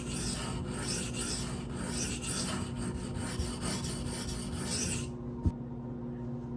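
A steady, continuous rasping scrape of a Protech TR-3 knife with a MagnaCut steel blade being ground on sharpening stones, close and even, stopping abruptly near the end with a single faint tap.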